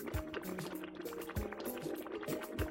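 A witch's cauldron full of broth over a fire bubbles in a cartoon, with continuous liquid burbling and gurgling and soft pops repeating throughout.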